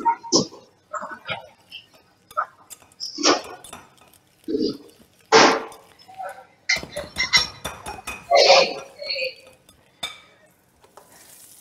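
Pecorino cheese being mixed in a bowl for carbonara, with scraping spoon strokes and clinks coming in bursts throughout, alongside people talking.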